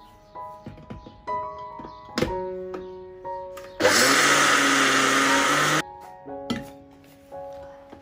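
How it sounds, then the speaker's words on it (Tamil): Mixer grinder grinding urad dal into batter for vada, a harsh whirring burst of about two seconds between scattered kitchen clinks and thuds of utensils, close by and with no talk. "தோசைக்கு மாவு அரைக்கிறதுக்கு முன்னாடி உளுந்து வந்து வடைக்கு அரைச்சி வச்சுட்டு அதுக்கப்புறமா தோசைக்கு அரைச்சேன்."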